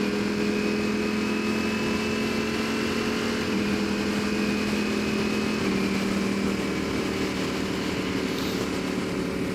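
2019 Ducati Panigale V4 engine while riding, a constant steady drone with wind noise and slight shifts in pitch, loud throughout with no talk.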